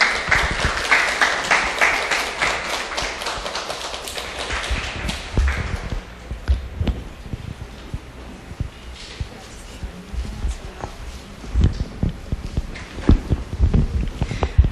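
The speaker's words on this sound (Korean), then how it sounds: "박수로 맞아주시죠" Audience at a bilingual-edition book launch welcoming authors Oh Jung-hee and Choi Yun: a burst of dense, close applause for several seconds thins into scattered claps, taps and footsteps.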